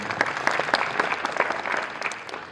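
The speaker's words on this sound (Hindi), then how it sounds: "एक बार जोरदार तालियों से बजाइए," Audience at a Republic Day 2024 event at an Ayurved medical college in Gogunda claps in a dense, steady burst of applause that gradually thins toward the end.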